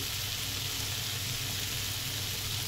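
Spice masala for a soybean curry sautéing in a pan, a steady close hiss of frying with no breaks and no voices.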